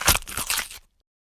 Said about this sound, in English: So let's find some leather crunch.